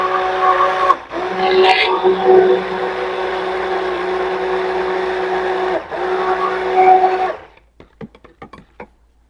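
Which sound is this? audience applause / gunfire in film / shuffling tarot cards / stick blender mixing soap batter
stick blender mixing soap batter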